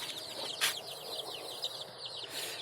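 A broody Gurk hen clucks softly amid a chorus of high, rapid chick peeps, with a brief louder squawk near the start; steady and close.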